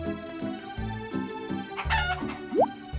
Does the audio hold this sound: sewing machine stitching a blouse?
no